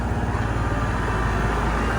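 Tractor driving through a New Zealand farm field while spreading fertilizer, a steady, loud, close engine drone with constant rumble and no voices.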